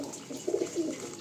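Andhra high-flying pigeons, a pure Andhra pair at a breeding setup, coo in soft, low repeated phrases close by, with a faint hiss in the background.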